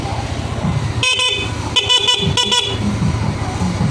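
A Yamaha Aerox 155 motorcycle's stock horn honks three short times in a row, loud and close, over a low idling engine.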